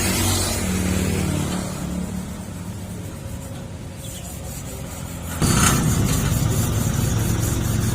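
Car fitted with an aftermarket exhaust idling with a low rumble, then revving harder as the throttle opens partway through, the deeper roar holding steady to the end, close and loud with no talking.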